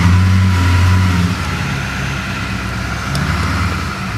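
A car engine running at a steady idle of around 1200 RPM, a close, loud, continuous drone whose pitch dips slightly after the first second and then holds level, with no talk over it.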